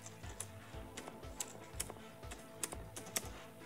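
Close computer keyboard typing of code for a jQuery attribute selector tutorial, with quick irregular clicks and clacks in short bursts and no talking.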